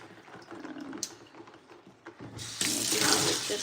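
Water running from a tap while a bucket is rinsed: soft splashes and handling at first, then the flow opens up into a loud, steady gush for the last second.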